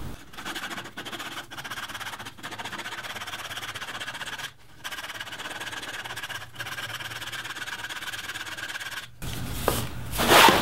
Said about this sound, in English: I'm gonna sand this off so they close a little bit more